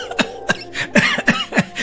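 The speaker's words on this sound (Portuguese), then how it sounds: "O garoto volta a si, tossindo muito e vomitando água." As an audiobook sound effect, a boy who has nearly drowned coughs hard over and over, with rough, close coughs that come in a quick, uneven rhythm.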